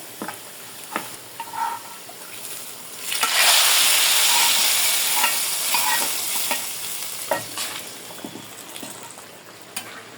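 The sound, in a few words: nigella seeds (kalonji) sizzling in hot oil tempering for dal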